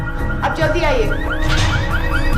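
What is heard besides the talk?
alarm of green Volkswagen car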